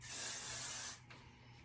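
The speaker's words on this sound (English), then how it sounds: "spray a little bit more" Hairspray hisses from an aerosol can onto messy, slightly frizzy styled hair in one steady, close burst lasting about a second, followed by a fainter residual hiss.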